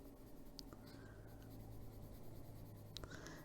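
Prisma colored pencil lightly shading flower petals on paper, a faint, steady close-up scratching with soft strokes and no voices.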